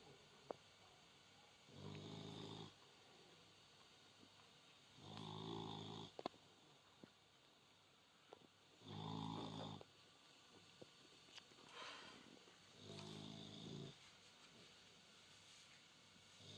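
A sleeping guard dog snores with its tongue out, five slow rhythmic rasping breaths spaced a few seconds apart, close and soft in a quiet room.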